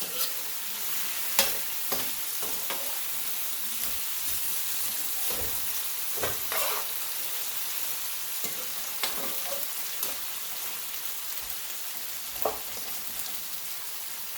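Potatoes and sardines cook in a hot pan, giving a soft, even sizzle with scattered clicks and scrapes of a spatula stirring at irregular intervals; no talking.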